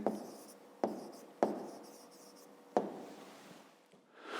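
Pen writing out a fifth-grade math solution on paper, a steady scratchy rubbing broken by a few sharp taps as the pen lifts and lands, close and fairly quiet.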